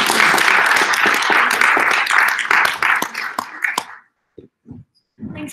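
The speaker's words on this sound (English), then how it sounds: "let's give our speakers a round of applause" Audience applause after a panel of speakers at a live event on designing AI technology, dense clapping filling the room for about four seconds, then fading to a few scattered claps and brief sounds.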